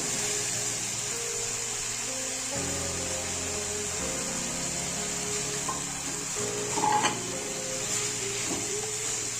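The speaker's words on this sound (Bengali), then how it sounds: "এবার পুঁই শাকটা দিয়ে দেবো।" Malabar spinach goes into a pan of pumpkin and potato cooking with spices, giving a steady sizzle and frying hiss with faint stirring and utensil clatter, no talking.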